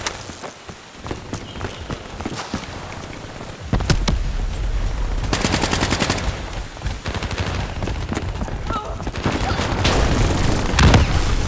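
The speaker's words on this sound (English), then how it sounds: "Oh, that's a turret. That is so a turret." Rapid bursts of turret machine-gun fire in Call of Duty Black Ops 3, a dense rattling fusillade with booming impacts that grows louder and more continuous partway through, alongside other battle noise.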